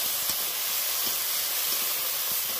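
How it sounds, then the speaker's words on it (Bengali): Green chilies and whole spring onions sizzle in hot oil in a wok, a steady close hiss with no talk. "আমি দিয়ে দেবো আবারও ওই কড়াইতে তেলের মধ্যে দিয়ে দিলাম কাঁচা লঙ্কা আর ছোট গাছ সমেত পেঁয়াজ"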